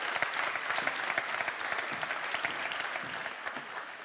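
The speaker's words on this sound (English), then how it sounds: "Applause for the ladies." Award show audience in Brussels applauds two women onstage, a steady, fairly distant wash of many hands clapping that fades slightly toward the end.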